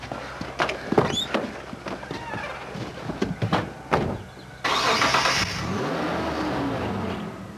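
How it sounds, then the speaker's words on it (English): A car engine cranks and catches, then settles into a steady running rumble, following some clattering and muffled movement nearby. "I heard my car start up"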